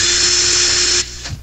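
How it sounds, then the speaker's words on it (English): Cordless drill whirring steadily in reverse while loosening a Clapton wire coil for a vape coil build, a loud close high-pitched spin lasting about a second before cutting off, then a faint clunk. "put my drill in reverse"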